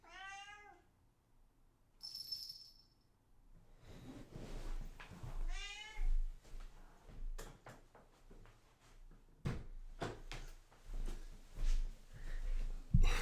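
A cat meows several times nearby, with rising and falling cries at the start and middle, amid quiet indoor knocks and thumps.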